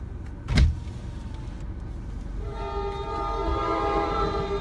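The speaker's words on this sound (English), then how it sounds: "Olivia, you're gonna see your train's gonna come by." A train passes nearby in Asbury Park on the New Jersey Shore with a rumbling roar, a brief thump early on, then a loud sustained horn blast rising over the noise.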